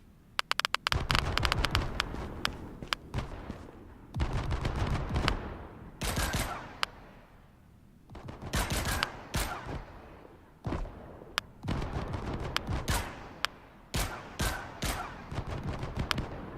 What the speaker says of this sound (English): Oh, he's shooting at the back end.